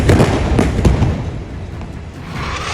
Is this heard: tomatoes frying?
no